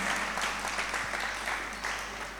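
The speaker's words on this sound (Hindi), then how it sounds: "एक बार जोरदार ताली बजा के इनका स्वागत करें" Audience at a religious discourse gathering claps in welcome, a close, dense burst of applause lasting a couple of seconds and fading slightly at the end, with a low steady hum underneath.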